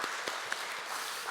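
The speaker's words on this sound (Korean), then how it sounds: "우리 함께 하나님께 영광의 박수 또 격려의 박수 하도록 하겠습니다" A church congregation applauds together, a steady wash of many hands clapping at a moderate distance in a large room, held evenly throughout.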